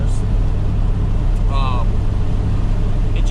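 A diesel vehicle fitted with a 3-inch downpipe exhaust runs with a constant deep, low rumble, fairly loud and steady throughout, with a brief faint chirp partway through.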